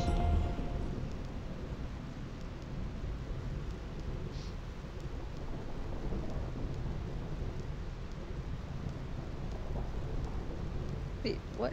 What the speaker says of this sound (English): Ooh, she's scared of thunder